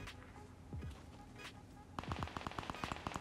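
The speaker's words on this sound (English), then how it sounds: "this kid's got like a freaking machine gun or some crap. LMG? Oh no, that's the new drum gun" Fortnite drum gun firing in rapid bursts, a quick string of sharp, evenly spaced shots that grows louder in the second half, with softer game sounds before it.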